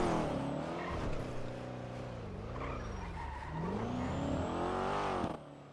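Cars racing in GTA V, engines revving hard and rising and falling in pitch as they accelerate and shift, with tires squealing, loud and continuous, no talk.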